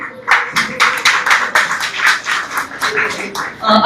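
An audience at a stage event for a Marathi theatre group applauds the behind-the-scenes crew, a close, loud burst of rhythmic clapping lasting a few seconds.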